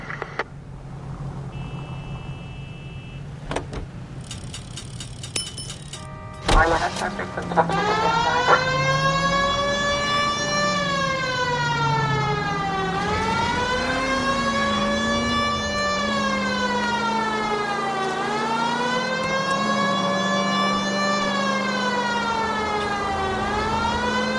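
A wailing ambulance siren from the video game L.A. Noire starts after a few scattered clicks, then rises and falls in long sweeping cycles, loud and continuous for the rest of the stretch.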